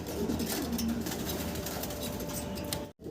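Fancy pigeons kept for sale coo close by in a soft, rolling burst during the first second, then the coop settles into a steady background hum with no voices, broken by a brief dropout near the end.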